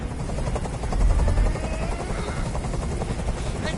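A helicopter hovers in the video game Detroit: Become Human, its rotor giving a steady, loud, close chopping pulse that continues for the full length with no talk.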